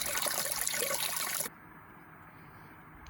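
Pump recirculating wort through the mash of a grapefruit IPA homebrew at about 30% speed, a steady close trickle of flowing liquid for about a second and a half before it drops off to a low quiet hum.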